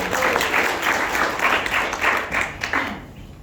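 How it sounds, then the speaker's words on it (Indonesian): Audience at a Rising Star Warriors business seminar in Surabaya gives a round of applause, a full, steady clatter of many hands with pulsing surges before it thins out and stops. "Tepuk tangan lagi dong."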